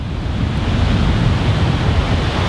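Ocean waves breaking and rolling onto a sandy beach beside piers as the tide comes in, a steady loud surf roar with wind buffeting the microphone throughout.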